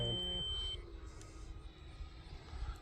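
A timer alarm at a model jet flying field gives a short electronic buzzing beep at the start, then cuts off, leaving quiet outdoor background.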